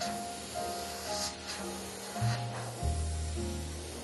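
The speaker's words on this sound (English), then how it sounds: "You can go back from the canvas, give it a wider spray." Airbrush spraying paint onto a canvas, a steady soft hiss running throughout with slight shifts as the nozzle moves, close and alone without talk.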